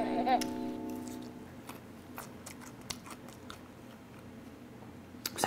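Crispy kkanpunggi, Korean sweet-and-spicy fried chicken, being bitten and chewed up close, with a series of soft crunchy bites at a steady pace over faint background music.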